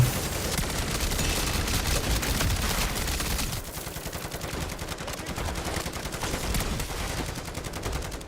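Sentry gun in MW3 Zombies blasting away, continuous rapid automatic fire with dense overlapping shots at close range, slightly quieter after the midpoint, and no talking.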